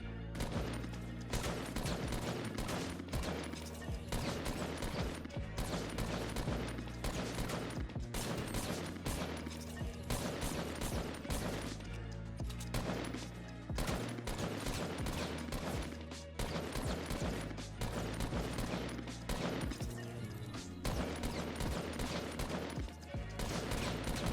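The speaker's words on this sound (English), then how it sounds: "you're free to start firing at them while tracking. It's important to take it slow and to tap fire" Fortnite gunfire on PC or console, fired in steady taps while tracking a target, with dense, rapid bursts of loud shots running continuously alongside game music.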